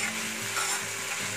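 Ridge gourd with turmeric and tamarind fries in a pan for chutney, a continuous close sizzle with soft stirring scrapes, no voices.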